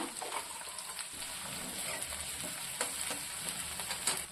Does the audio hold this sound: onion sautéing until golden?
yes